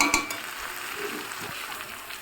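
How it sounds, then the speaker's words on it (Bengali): Broth going into a pan of chicken cooking with coriander leaves, producing a steady close sizzle and hiss with a few small stirring knocks. "ধনেপাতাটা মাংসের সঙ্গে মিশিয়ে নিয়েছি, এবার ঝোলটা দিয়ে দিচ্ছি।"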